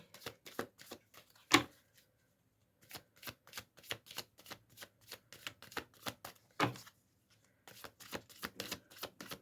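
Oracle cards shuffled by hand, a long run of rapid crisp flicks and riffles in uneven bursts with short gaps, close and quiet with no talking.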